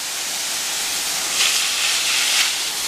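A garden hose sprays water onto succulent plants in a home garden, giving a steady close hiss that swells briefly twice as the spray shifts, with no one talking.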